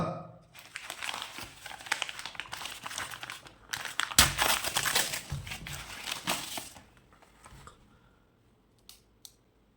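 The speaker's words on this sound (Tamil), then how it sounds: "இந்த பார்சலை பிரித்து இந்த கால்குலேட்டரு எப்படி இருக்குன்னு சொல்லி நம்ம டீட்டெயிலாக பார்த்துடலாமா" Parcel packaging around a calculator is torn open and handled, with close, continuous crinkling, rustling and tearing for several seconds before it falls quiet apart from a couple of small clicks.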